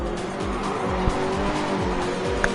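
A race car in a Supercars game at Daytona roars at full throttle with tires squealing and skidding as it gets pushed around and spins, a steady engine drone running throughout.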